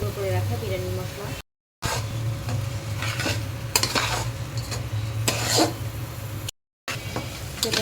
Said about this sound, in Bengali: লবণ, ভালো করে নেড়ে চেড়ে পোলার চালটা কিছুক্ষণ ভেজে নিচ্ছি